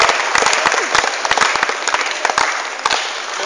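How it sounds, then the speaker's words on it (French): An audience applauds during a French television talk show about poverty, a short burst of dense, steady clapping close by that carries evenly for a few seconds before tapering slightly at the end. "On applaudit Véronique quand même, merci."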